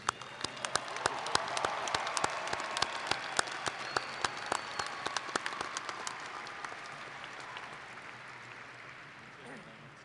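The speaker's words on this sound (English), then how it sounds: "Your applause, please." Applause at the NJIT 2014 commencement from a large crowd in a big hall, with sharp individual claps standing out over a steady wash, slowly fading toward the end.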